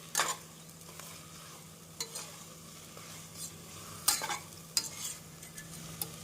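Chicken tossed with masala in a pan for chicken kulambu sizzles softly while a spoon scrapes and stirs in irregular bursts, several sharp scraping strokes standing out over a low steady frying hiss.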